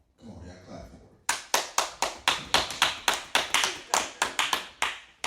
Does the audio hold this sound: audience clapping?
yes